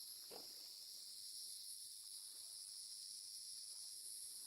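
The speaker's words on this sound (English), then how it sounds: "God, the crickets are so loud." Crickets in a tree in the video game Vintage Story keep up a continuous high chirring drone, steady and fairly loud, with faint background noises and no talk.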